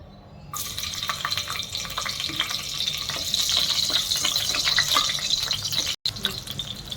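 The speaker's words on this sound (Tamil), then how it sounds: "ஸோ இப்போ எண்ணெய் காஞ்ச உடனே பச்சை மிளகாய் போடுங்க." Green chilies hit hot oil in a pan and crackle with a steady, bright sizzle that builds and holds, broken by a brief dropout near the end.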